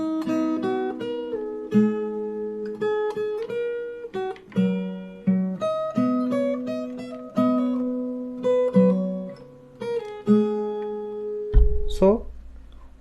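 A fingerstyle acoustic guitar plays the main verse of a song, with picked melody notes over open strings and sustained bass, close and clear. The phrase ends with a sudden thump and a scrape.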